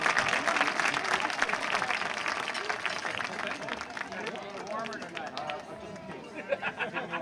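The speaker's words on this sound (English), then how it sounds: "Big round of applause." A crowd at a high school football game ceremony breaks into sustained applause, dense clapping mixed with cheers and chatter that gradually thins toward the end.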